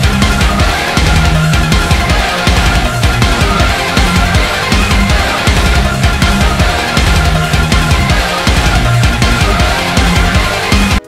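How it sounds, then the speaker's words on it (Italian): Dense, loud heavy metal riff with palm-muted chugging distorted guitars, bass and kick drum in sync, pounding drums and keyboard layers, continuous throughout. "Creiamo una ritmica in palm mute e sincronizziamo chitarra, basso e cassa della batteria."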